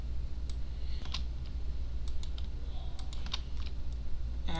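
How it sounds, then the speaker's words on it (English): Computer keyboard keys and a Shift key clicked and pressed during 3D modeling work: a scattering of crisp, close clicks at an uneven pace over steady low background hum, with no talking. "I'm just clicking and hitting Shift, pressing down on Shift"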